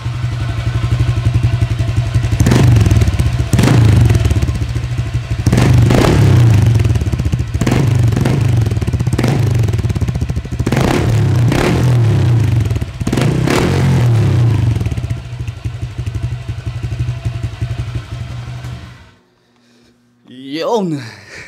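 A motorcycle with an aftermarket MT8 exhaust pipe idles with a loud, steady rumble, broken by several sharp revving bursts from the exhaust, then cuts off near the end.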